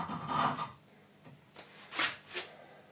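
A hand file rasps a burr off a metal edge in a few short, quiet scraping strokes with small gaps between them, close to the microphone.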